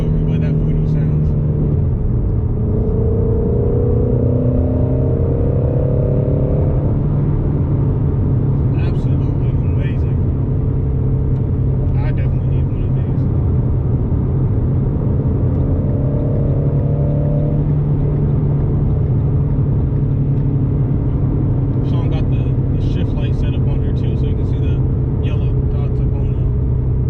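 Ford Shelby GT350 with its Voodoo V8 while driving, a steady close engine drone that rises in pitch during two stretches of acceleration, with occasional talk over it.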